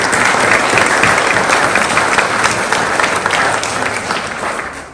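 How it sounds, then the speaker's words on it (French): Loud, sustained applause from a large audience at the mayor of Pomponne's New Year wishes ceremony, a thick wash of clapping that fades a little at the close. "Je vous propose que nous applaudissions tout ce monde qui organise tout ça."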